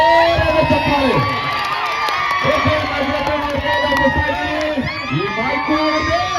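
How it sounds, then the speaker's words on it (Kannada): A village stage-show crowd cheers and shouts loudly for a folk singer, with whoops and children's voices over a dense, continuous roar and some talk mixed in. "ಒಂದ್ಸಲ ಜೋರಾದ ಚಪ್ಪಾಳೆ"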